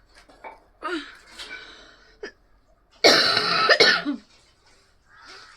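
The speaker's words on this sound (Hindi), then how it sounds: "बहुत खांसी हो रहा, समझ में नहीं आ रहा क्या खाऊं।" Several harsh coughs sound up close, a couple of shorter hacks followed by one long, heavy coughing fit, then a softer one.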